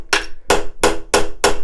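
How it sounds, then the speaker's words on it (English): A hammer drives a pin into pallet wood with five loud, sharp, evenly spaced blows, close by and with no talk. "be quite bold with the hammer blow so it doesn't slip off"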